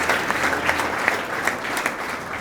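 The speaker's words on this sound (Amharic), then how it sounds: "ለጌታ ክብር አጨብጭቡለት።" Church congregation applauding together during a prophecy service, a dense steady wash of clapping hands with scattered louder claps, sustained throughout.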